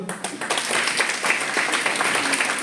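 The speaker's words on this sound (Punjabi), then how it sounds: "ਸਾਰੇ ਵਿਦਿਆਰਥੀ ਜਿਹੜੇ ਹੁਣ ਬੈਠੇ ਆ ਇਹ ਆਪਣੇ ਲਈ ਤਾੜੀ ਜ਼ਰੂਰ ਮਾਰੋ" Seated students at a university college poetry gathering burst into sustained applause, a dense, lively crowd of clapping that fills the hall from start to finish.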